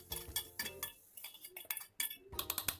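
A metal lid is set on a metal cooking pot before it goes into a pressure cooker for egg curry, making a few quiet, light clinks and taps in close succession.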